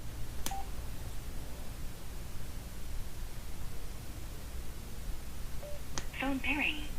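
A Sena 20S Evo 30K helmet headset gives a short electronic beep, then near the end a brief chime and a synthetic voice prompt announcing phone pairing. The sounds are close and clear over a quiet hiss.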